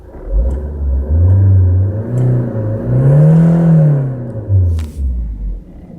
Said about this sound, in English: now I can rev it.